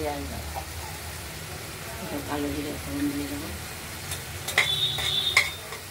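Soft steady sizzle of black cumin (nigella) seeds frying in fish oil, close and low, with a few utensil clinks and faint talk.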